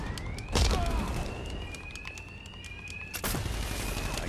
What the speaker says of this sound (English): my attacks will be covered by the noise of the alarm